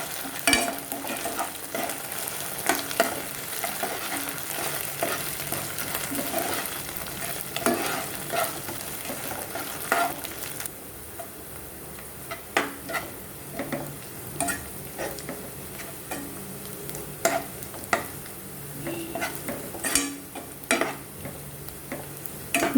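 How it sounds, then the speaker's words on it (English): Ginger garlic paste frying in a pan for restaurant-style veg kadai, a continuous sizzle punctuated by frequent sharp stirring clicks and scrapes of a spoon against the pan, close and fairly busy throughout. "Let the raw flavor of the ginger garlic show. Until then, just saute."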